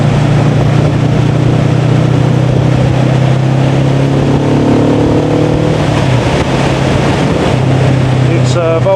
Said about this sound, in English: You might be able to hear the exhaust.